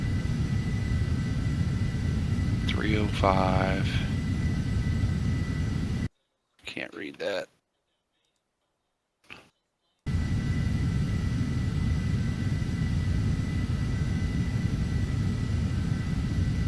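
Aircraft engines run in flight in the FSX Steam edition flight simulator, a steady droning roar that fills the background before and after a brief break, while a voice speaks over it.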